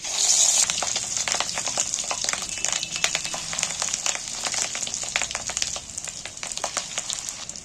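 Small pieces of fish roe fry in hot oil, producing a dense, continuous sizzle full of crackles and pops. The sound stays close and fairly loud from start to finish, with no voices.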